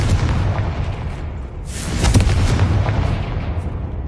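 A Confringo fire spell bursts in Hogwarts Legacy: a dense, booming rumble of explosive noise fills the whole stretch, swelling into a louder, crackling blast about halfway through before settling back into a sustained roar, with no voices.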